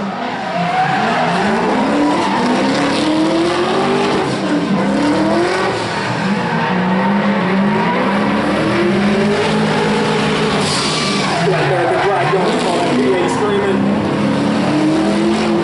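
A pair of V8 race cars battle on a track, engines revving up and down in sweeping pitches while tires squeal and skid. The sound is loud and continuous throughout.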